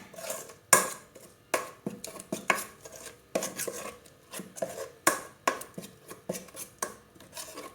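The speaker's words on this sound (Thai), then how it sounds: "ส่พริกแกงลงไปผัดกับกะทิให้มันหอม" Thai curry paste is stir-fried with coconut milk in a pan for a beef and pumpkin curry, heard as repeated close scraping and clanking of a utensil against the pan in an uneven rhythm.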